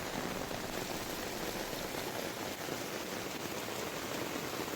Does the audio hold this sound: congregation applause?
no